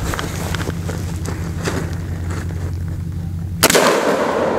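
A 10.5-inch pistol firing Barnes 62gr TSX 5.56mm rounds during a chronograph test: one sharp, loud, close shot near the end, after a steady background hum.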